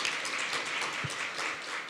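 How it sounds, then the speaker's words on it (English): A panel audience on Pacific internet development applauding, a dense, even patter of many hands clapping at a moderate level for a couple of seconds, with no voices. "Big round of applause."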